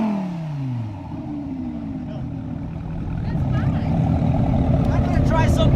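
A Chevy ZL1 1LE and a Lamborghini Huracan rev their engines, one note sweeping down and back up before a steady, swelling roar builds louder toward the end, with voices talking nearby.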